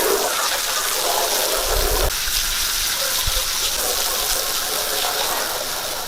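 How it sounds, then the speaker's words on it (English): Water drains from a 125-gallon aquarium through a hose in a loud, continuous rushing gush, steady throughout with a few low thumps partway through, no talking. "We got the water draining."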